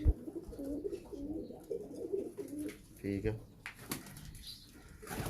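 Soft pigeon cooing repeats in low, rolling bursts beneath a voice speaking nearby, with some handling noise and rustling, at a pigeon breeder's loft.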